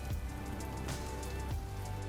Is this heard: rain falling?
yes